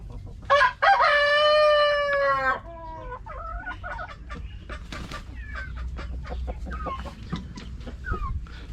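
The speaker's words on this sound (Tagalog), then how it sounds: "sa mga manok dito. Yung mga breeder ko." Breeder chickens on a farm: a rooster crows a long, loud cock-a-doodle-doo close by, followed by scattered clucks and short calls from hens, with faint rustling in the background.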